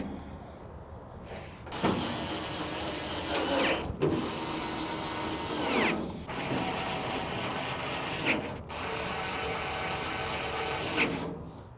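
Bolts being tightened with a ratcheting tool during assembly of a Camp Chef XXL Pro griddle, heard as several long continuous mechanical whirring bursts separated by short pauses, close and steady.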